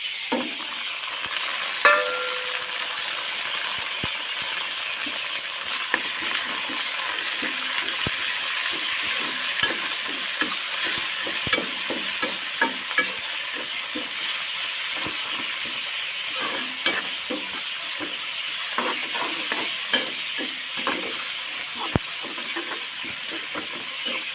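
Bitter gourd curry with salt, turmeric, chili and tomato is stir-fried in a pan, a continuous sizzle broken by repeated scraping clicks of the spatula throughout, with no talking.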